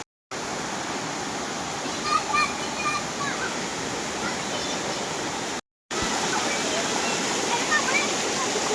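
A local waterfall feeds water that flows on like a stream, giving a steady, full rushing wash heard close by, broken by two brief cuts to silence.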